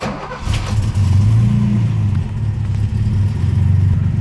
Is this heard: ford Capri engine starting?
yes